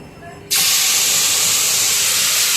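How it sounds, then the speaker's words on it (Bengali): Ground spice paste with black cumin hits hot mustard oil left from frying fish, bursting into a loud, steady sizzle that starts abruptly and holds hissing strongly to the end. "ওই তেলেই আমি একটু কালো জিরা ফোড়ন দিয়ে বাটা মশলাটা দিয়ে দেবো"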